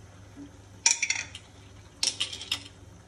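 Stirring a homemade leather polish mixture in a pan, giving two short bursts of clinking, scraping utensil-against-pan sounds separated by a quiet pause, close and fairly crisp.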